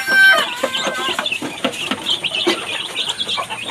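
Chickens clucking in a coop with young chicks and a mother hen, a dense run of overlapping clucks and chirps close by, with a sharp squawk at the start.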